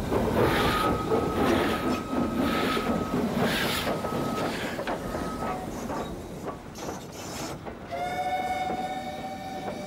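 The Khyber train in Pakistan rumbles along the rails near Peshawar with a steady roar and rhythmic clatter, its whistle sounding in drawn-out tones, then a higher horn blast near the end.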